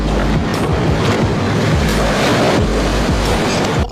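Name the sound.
waves during a ship launch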